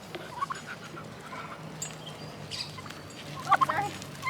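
Faint turkey gobbles warble in a quick cluster near the end, over quiet farmyard background noise.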